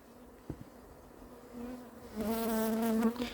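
A large clump of honeybees from a swarm in Varennes-sur-Seine buzzes close by, a faint drone that swells into a loud, rising hum as a bee passes near.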